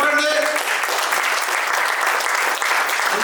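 Applause from an audience at a speech during an LDP program in Sattenapalli, dense steady clapping filling the whole stretch at close range, with a brief tonal voice or music fragment at the very start.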